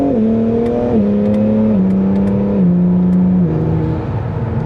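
Acura NSX Type-S in a sport track mode, its engine droning loudly and steadily from inside the cabin as the pitch shifts down in several distinct steps during downshifts.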